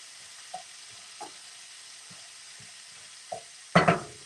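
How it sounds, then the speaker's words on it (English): Grass-fed butter hits a hot pan for Greek-style Thanksgiving stuffing: a few soft, sparse clicks and taps, then a short, sharp sizzle burst near the end that quickly fades. "I'm now going to put in some butter"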